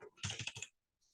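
Pressing the Ctrl+J shortcut on a computer keyboard while editing in Photoshop gives a short cluster of close, crisp key clicks, followed by a faint tap.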